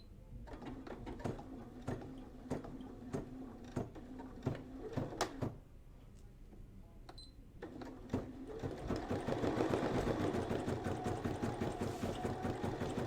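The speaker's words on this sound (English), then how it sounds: "I can lower my presser foot and I'm ready to start stitching my first snowflake." An embroidery machine stitching a snowflake design runs in a steady rhythmic clatter of needle strikes, briefly pausing before speeding into a denser, faster whir, close and moderately quiet.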